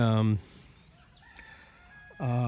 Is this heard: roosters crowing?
yes